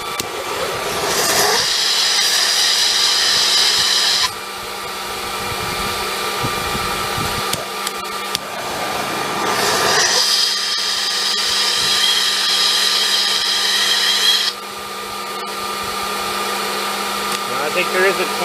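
A Predator 4375 generator running on wood gas drones steadily with a constant engine hum, while loud hissing, roaring bursts rise over it twice and then fall away, close and strong throughout.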